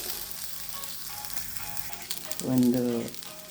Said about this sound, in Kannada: ಕರಿಬೇವಿನ ಸೊಪ್ಪು ಅದ್ರ ಜೊತೆಗೆ ಸ್ವಲ್ಪ ಹಾಕ್ತಾಯಿದ್ದೀನಿ. 1 ನಿಮಿಷ ಹುರಿತೀನಿ.